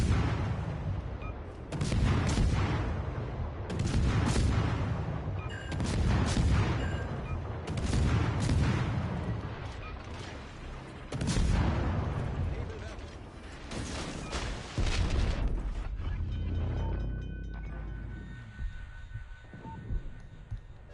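Naval guns from a destroyer in a warship video game firing in heavy repeated booms, each blast rolling into a low rumble, with a lighter mechanical hum and a voice talking between salvos.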